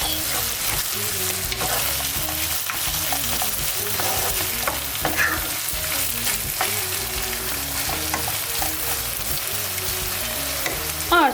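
Minced meat and grated tomatoes cook in a pan for lasagna, a continuous loud sizzle with repeated scraping and knocking of a utensil stirring through the mixture.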